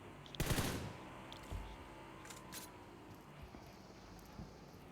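In a BGMI mobile battle royale match, a short burst of automatic gunfire crackles out at the start, followed by a couple of faint scattered shots in the distance, set over a low ambient game hum.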